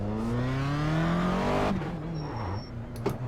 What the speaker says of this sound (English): The car's a little bit louder than Miata.